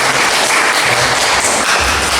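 A church congregation applauding the worship music team at a Sunday service, dense continuous clapping close and loud with a few low thumps.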